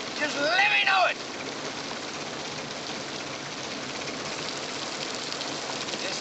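Rain falling as a steady, soft hiss of drops in an old film scene, continuous throughout, briefly overlaid at the start by a short burst of another voice-like sound.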